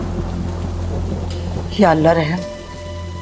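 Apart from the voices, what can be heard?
heavy rain with thunder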